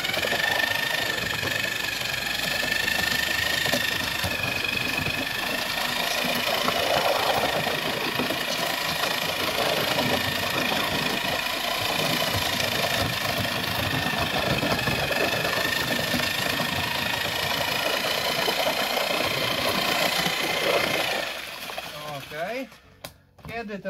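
A mixer churns sand mix for facade stone, a continuous rumbling, rattling drone held close and steady for over twenty seconds before it cuts out near the end.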